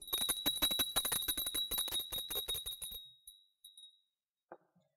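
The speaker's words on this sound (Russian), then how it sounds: "А теперь позвоним, воздействуя с большей силой." A small hand bell is shaken hard, ringing in rapid, forceful strokes for about three seconds before its clear tone fades away, followed by a faint click.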